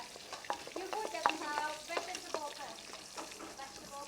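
Noodles and meat stir-fry in a wok at a Thai cooking class in Chiang Mai: close, lively sizzling broken by repeated sharp scrapes and clatters of the spatula, with no talk over it.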